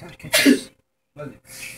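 A single sharp human sneeze bursts out close and loud amid casual talk, followed by a brief silence and more speech.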